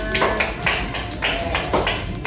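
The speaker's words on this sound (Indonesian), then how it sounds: "Boleh tepuk tangan." A classroom of students claps together in a short, even burst of distinct hand claps, near and fairly loud, over about two seconds.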